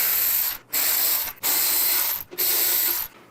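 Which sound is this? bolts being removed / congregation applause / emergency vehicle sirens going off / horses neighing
bolts being removed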